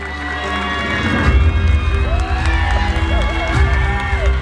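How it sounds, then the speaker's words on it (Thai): Crowd at a fresh-market pageant, the men's swimwear round with loincloth-style pakama cloths, cheering and whooping loudly with children shouting and some clapping, while a voice speaks over the din. "เสียงเชียร์อย่าหายเสียงเชียร์อย่าหาย"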